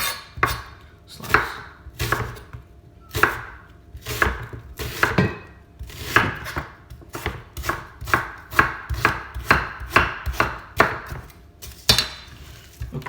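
A knife slices a peeled onion on a chopping board in a close, rhythmic run of sharp taps, a few seconds of spaced cuts quickening into a rapid, even series of dry knocks, with no voices.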